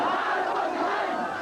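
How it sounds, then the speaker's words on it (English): A crowd of Aquino supporters fills Manila's streets during the 1986 People Power uprising, cheering and chanting slogans as tanks return to base. A brief, dense roar of many voices sounds continuous and fairly distant. "the people cheering them on with the slogans and victory signs of Aquino echoing behind them"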